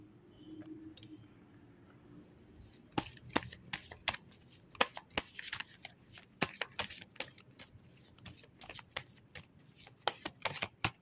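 Oracle cards being shuffled in a long run of crisp, irregular riffling slaps and flutters, loud and close, starting softly and then continuing steadily with no talk.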